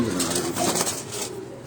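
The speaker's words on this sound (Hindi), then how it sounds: "ये वो कबूतर हैं जिन कबूतरों का बासत भाई ने अभी आपको शौक" Caged striped and Kabuli pigeons cooing close by, a few soft throaty low coos in a short rhythmic phrase, fading toward the end with no talk over it.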